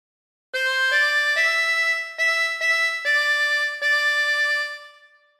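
A harmonica plays phrase 4 of Waltzing Matilda alone, up close, as a short melodic line of about six sustained notes with brief breaks between them, the last note held and fading out.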